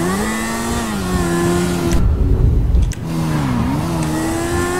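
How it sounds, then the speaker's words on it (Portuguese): A stolen armored truck in GTA 3 drives with a loud, close engine drone that rises and falls in pitch as it revs, with a burst of rougher road noise in the middle. "roubamos um carro forte, vambora"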